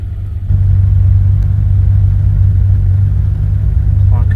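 A 1982 Ferrari 400i with a V12 engine and 5-speed manual catches after a brief start, then settles into a loud, deep, steady idle rumble heard up close.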